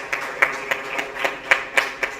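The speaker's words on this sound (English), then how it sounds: "Can we appreciate what they do with a round of applause?" Scattered hand claps ring out at a SADC documentary launch and media networking event, about eight distinct sharp claps spaced unevenly, moderately loud and not dense enough for full applause.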